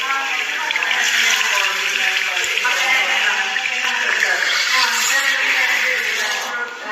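A tap runs steadily as soapy hands are rinsed during a handwashing routine for preschool children. The water makes a close, continuous rushing splash that holds for the whole stretch with no voices.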